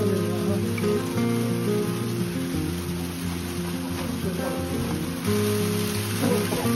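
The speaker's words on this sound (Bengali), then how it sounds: "এটা বৃষ্টি ঠিক নয়, চিনির দানা, মিহি চিনির দানার মতো দানা পড়ছে।" Fine hail like sugar grains falls outdoors during a Himalayan trek down from Sandakphu toward Srikhola, making a steady, dense patter on surfaces that runs unbroken throughout at moderate loudness.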